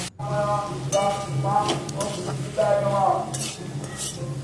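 Potatoes and tomatoes sautéing in a pan with a little water for a chickpea and paneer curry, with steady sizzling and repeated spatula scrapes over a constant humming tone in the background.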